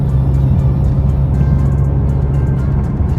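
An Audi S4 sedan accelerating, a loud, steady engine drone with strong low rumble heard from inside, holding constant throughout with no talk.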